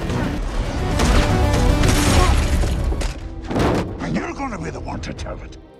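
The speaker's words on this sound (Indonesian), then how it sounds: "Namun sayangnya di insiden ini, Gabriel berhasil lepas lalu menyerang Travis sampai terjadilah baku tembak." A gunfight in an FBI agent action movie: dense, loud bursts of gunfire and booming impacts crowd the first three seconds, then another sharp volley follows, with a voice talking over the fighting.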